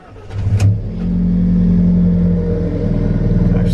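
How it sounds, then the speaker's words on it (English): An Alfa Romeo 4C starts up close by: a short cranking burst, then the engine catches and settles into a loud, steady idle with a low throbbing rumble. "So let's start the car."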